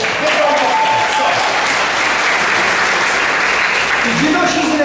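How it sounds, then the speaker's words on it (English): Loud, sustained applause fills a kids' show audience in Tipton, steady clapping throughout with a few shouts and voices rising over it near the start and end. "Give them a applause"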